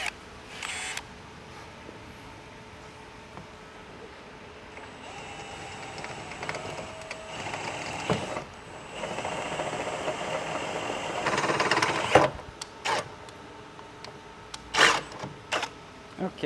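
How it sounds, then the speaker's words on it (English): A drill bores 8mm holes in soft plastic for nutserts while a rear window basket is fitted to an FJ Cruiser. A steady, moderately loud motor whir rises and falls with several bursts, ending in a few sharp clicks and knocks. "So now that we've drilled all our holes out to 8mm"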